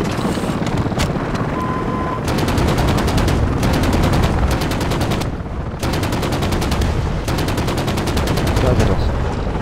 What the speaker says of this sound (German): Ich mach mal die SMG leer, damit er mal nachladen kann.